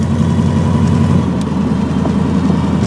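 A 1922 hot rod drives along with a steady, loud low engine rumble and continuous road and wind noise, no voices over it.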